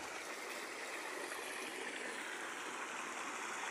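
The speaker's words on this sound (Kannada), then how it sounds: "ನೋಡ್ರಿ, ಎಷ್ಟು ಮಸ್ತ್ ಬರ್ತಾವೆ ನೀರು" Irrigation water gushes steadily from a pipe across a field of pigeon pea crops, a continuous broadband rushing and gurgling, loud and close, with no talk.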